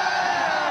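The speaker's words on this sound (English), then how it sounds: "the crowd is yelling" A large crowd yells in a dense, continuous roar at an esports championship event, steady and loud for a brief moment.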